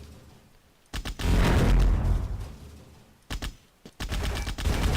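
Rapid bursts of gunfire in the video game Bad Bots, loud volleys separated by short gaps, with dense automatic fire stretching across most of the stretch and sharp clusters of shots near the end.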